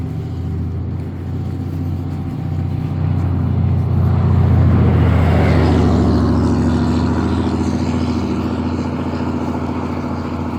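Car passing close by on a communal property with a single way out, a steady broadband rumble of engine and road noise that swells to its loudest around the middle and then eases off, with no talk.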